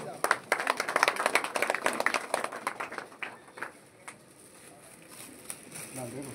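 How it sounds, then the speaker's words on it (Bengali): A crowd at a fan club jersey launch claps loudly in a dense burst of applause that thins out and fades within a few seconds, with voices murmuring underneath. "একটা জোরে হাততালি হয়ে যাক।"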